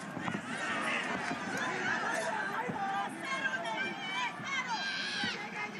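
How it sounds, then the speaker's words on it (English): A massive boxing crowd in a Tokyo arena rallies behind Inoue, a dense, continuous roar of cheering voices and shouts swelling throughout. "As you can hear this massive crowd in Tokyo trying to rally support"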